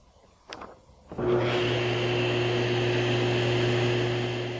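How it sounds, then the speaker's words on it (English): A SawStop table saw spins up and runs steadily while nibbling material off the ends of a wooden cabinet-door rail, producing a loud, constant humming whine with a rushing hiss after a few soft knocks. "I nibble off a little material at each end of the rail from both faces"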